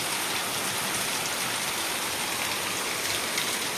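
Heavy rain pours steadily outdoors on a morning, a dense, continuous hiss of drops hitting surfaces, loud and unbroken with no voices.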